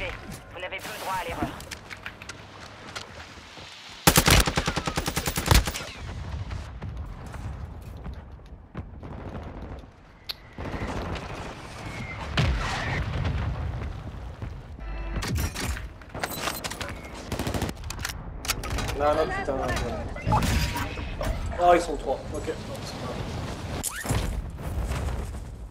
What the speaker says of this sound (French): Ça me tire dessus.